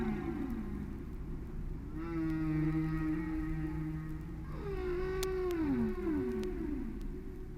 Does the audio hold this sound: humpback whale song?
yes